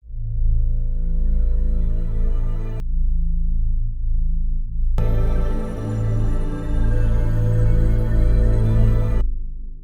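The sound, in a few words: deep sub drone synth, Zebra, Hans Zimmer Dark Knight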